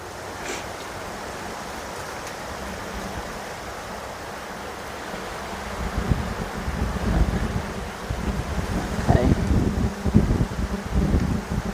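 Wind blowing through a garden, a steady broadband rush that swells and gusts louder in the second half, buffeting the microphone, with no voices.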